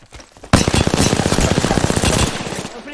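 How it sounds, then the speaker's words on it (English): Automatic gunfire in the video game Apex Legends erupts after a brief quiet moment, a loud, rapid stream of shots lasting a little over two seconds before tapering off. "Opening fire."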